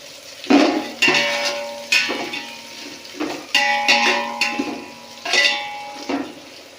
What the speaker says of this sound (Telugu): ఉల్లిపాయలు పచ్చిమిరకాయలు వేగేదాకా ఆగాలి